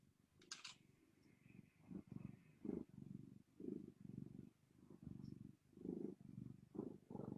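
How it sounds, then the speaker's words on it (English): A cat purrs right into a microphone during an online Java programming lesson, steady rhythmic rumbling breaths repeating about every second, close and low, with a short higher noise near the start. "Who's got their cat purring into their mic?"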